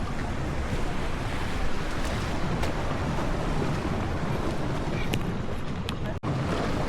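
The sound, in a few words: ocean waves crashing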